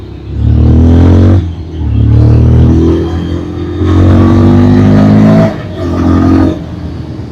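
A Bajaj Pulsar 125 motorcycle engine under way on the road, a close, loud buzzing drone that swells in several repeated acceleration pulses between brief lulls.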